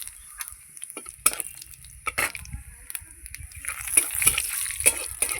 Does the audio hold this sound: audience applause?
no